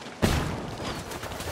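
Gunfire erupts in a Ghost Recon Wildlands firefight against cartel members: one sharp, loud burst followed by a rumbling, crackling tail of continued shooting.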